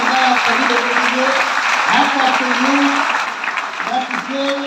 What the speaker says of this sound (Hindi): जोरदार ताली बनता है आप सभी लोगों के लिए।